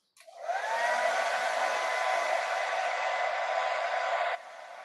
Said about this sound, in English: I'm just gonna hit the hair dryer to dry this one up really quick